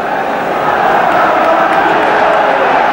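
A 34,000-strong football crowd at White Hart Lane, Tottenham, for a 1976/77 match against Sunderland forms a steady, distant roar and murmur that swells slightly, with no single voice standing out.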